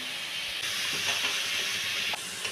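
Tomatoes tipped into a hot pan of fried onions for chicken curry, giving a loud, steady hiss of sizzling with a couple of faint knocks.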